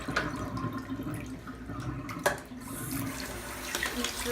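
Tap water running steadily into a sink while a pet ferret is rinsed, with splashes and a sharp knock partway through, close and alone with no voices.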